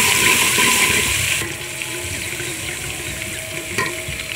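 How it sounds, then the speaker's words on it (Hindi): Crushed garlic sizzles and fries in hot oil for Hyderabadi chicken dum biryani, a steady close hiss that drops slightly in level partway through, with no talking. "अब हम इसमें कुटा हुआ लहसुन डालेंगे।"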